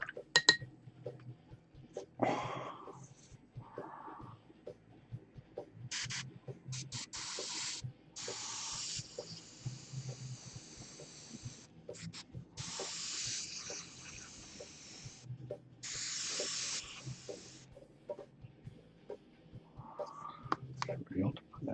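An airbrush spraying cleaner while painting Space Wolf Kill Team armour gives repeated short hissing bursts of varying length, close by, with someone talking softly between them.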